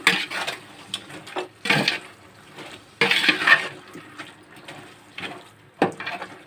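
A yogurt and lemon juice marinade for Arabian-style Muslim dum biryani being mixed by hand in a bowl, with irregular wet squelches and clinks of a utensil against the dish in bursts, close up, no talking.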